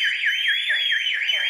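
An SHB Tike Sécurité home alarm is going off indoors with a loud, steady warbling electronic siren that sweeps up and down in a fast regular cycle, with faint voices underneath.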